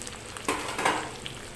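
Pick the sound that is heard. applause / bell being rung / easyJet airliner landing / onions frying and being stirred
onions frying and being stirred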